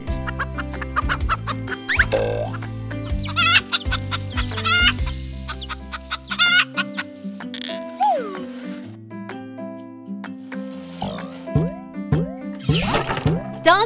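Hen clucking in short repeated bursts over a bouncy children's song, the clucks close and loud, interspersed with playful boing-like effects and plopping sounds.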